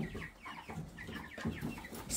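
Chickens cluck softly in a pen, scattered overlapping clucks at a moderate distance, fairly quiet with no talking.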